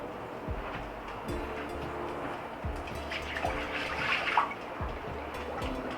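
Water splashes and gurgles as it is poured out of an Instant Pot Ace blender, with a low steady mechanical hum in the background.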